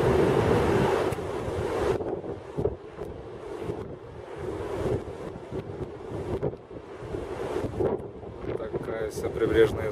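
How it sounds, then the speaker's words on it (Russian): Gusty wind buffets the microphone over the wash of ocean waves at a beach in Santa Cruz, a loud rumbling roar rising and falling, with faint voices underneath. "Санта-Круш, он всегда ветреный и большие онды"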